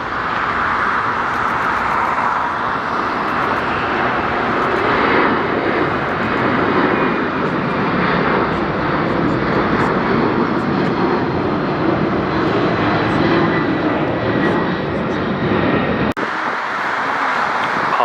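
A jet airliner lifts off from runway 25 Right at LAX with a loud, continuous broadband engine roar that holds steady and close before cutting off abruptly near the end.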